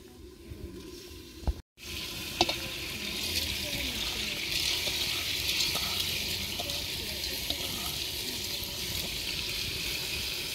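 Lentils, rice and spices fry in a pan for khichuri, giving a steady, close sizzle that runs the whole length after a brief drop-out near the start.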